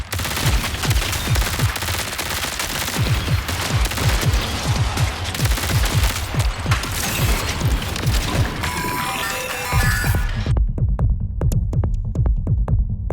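Rapid, loud SMG bursts from the video game Marathon, the extraction shooter, hammer out close and dense, with a brief mechanical rattle before a final spaced run of shots over a quiet tail.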